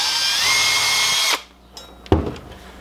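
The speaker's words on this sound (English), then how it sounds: "just drill four holes equidistant apart in the tire" A power drill whirs steadily at high speed for over a second while drilling holes in a tire, then cuts off, followed by a short clatter and thump nearby.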